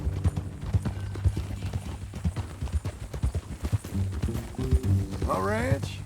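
Steady clip-clop of horse hooves at a trotting rhythm in Red Dead Redemption 2, with voices talking over them and a brief whinny near the end.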